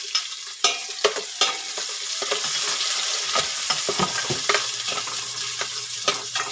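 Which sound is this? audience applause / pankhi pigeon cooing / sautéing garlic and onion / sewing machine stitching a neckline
sautéing garlic and onion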